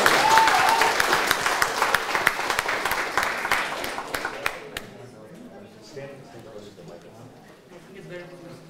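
Invention bootcamp audience applauds a presenting team, loud dense clapping that thins out and fades by the midpoint, after which people are heard talking quietly.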